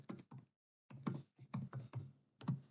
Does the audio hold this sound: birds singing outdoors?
no